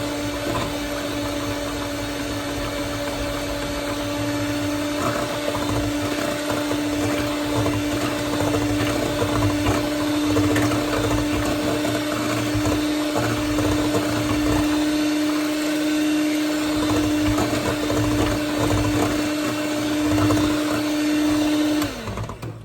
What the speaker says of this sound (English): So pretty much just gonna whisk this up. Whisk everything nicely.